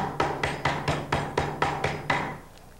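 A rapid run of eight or nine firm, evenly spaced mallet blows pounding beef, close and steady, then stopping.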